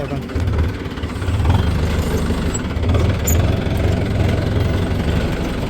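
A New Holland tractor engine with a failed alternator idles nearby with a low, steady rumble and slight knocking pulses, continuing throughout.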